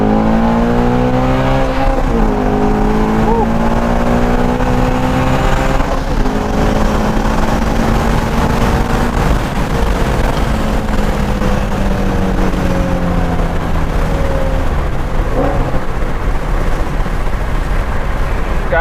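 A Shelby Ford GT350 with a Steeda IRS subframe brace pulls at wide open throttle in second gear, its engine note climbing steadily in a loud, close, sustained rising roar heard from inside the car.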